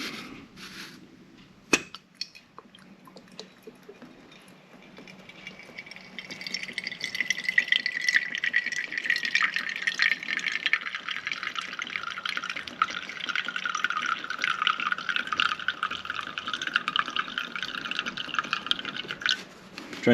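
Water is poured into a Toaks 750 titanium pot, a steady close trickle and splash that rises in pitch as the pot fills, preceded by a sharp metallic clink.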